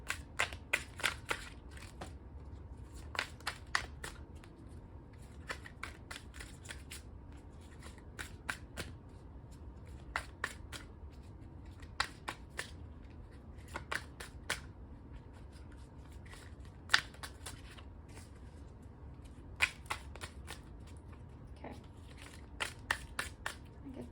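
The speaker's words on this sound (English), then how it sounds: "Two more shuffles and then we're gonna draw two, at least two." Tarot cards are shuffled repeatedly, crisp riffling snaps in irregular bursts over a low background hum.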